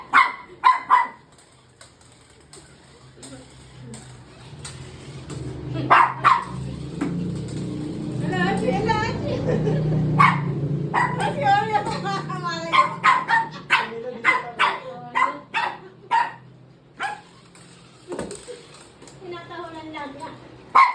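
A dog barks in short bursts and yips repeatedly at a moving toy ball, some barks sharp and close, while people talk in the background.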